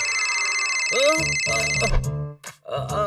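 A phone ringtone plays a steady electronic tone while voices and sound effects break in over it near the end.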